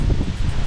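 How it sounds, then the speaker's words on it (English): A brief, loud blast of wind, gusting about 30 to 35 miles per hour, buffets the microphone with a low, rumbling roar. "We are experiencing a windy day, a windy afternoon."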